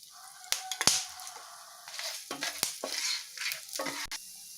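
Cashews, fennel, cumin, coriander seeds and shredded coconut dry-roasting in a pan for egg gravy, with scattered crackling and scraping stirs that come in short clustered bursts, close and moderately loud.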